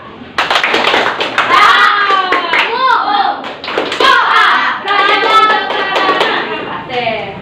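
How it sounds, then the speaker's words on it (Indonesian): Children in a classroom play a clapping game, with bursts of hand claps over lively chanting voices that run almost continuously throughout. "Wah, tepuk satu, oke. Tepuk dua, yes. Tepuk tiga"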